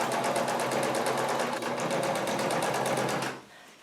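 A Brother sewing machine runs steadily and close, stitching a rug made from old clothes with a fast, even rhythmic clatter for over three seconds before stopping abruptly.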